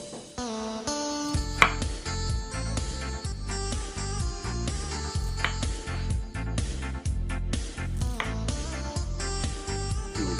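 A kitchen knife cuts white radish (daikon) into 3 cm chunks on a board for a vegetarian braised tofu and straw mushroom dish, with a steady run of close, firm chops under a loud musical backing.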